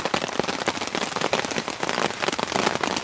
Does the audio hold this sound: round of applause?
no